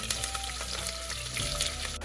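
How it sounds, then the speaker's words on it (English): Chopped onions frying in hot oil for a chicken curry give off a steady, dense sizzle that holds at an even level throughout, with no voices. "So we're gonna cook the onions until they brown"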